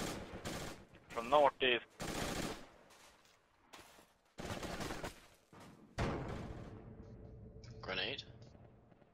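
Incoming gunfire in Battlefield 2 Project Reality comes as bursts of shots at irregular intervals, mixed with radio-style team chatter and a whistling tone partway through.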